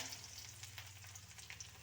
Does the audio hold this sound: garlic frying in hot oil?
yes